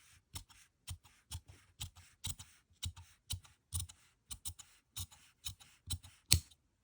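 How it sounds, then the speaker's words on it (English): Scissors trimming the seam allowance of fabric for a flat felled seam, a quick run of crisp close snips in an uneven rhythm, each cut short and quiet against near silence. "Just trimming the seam allowance."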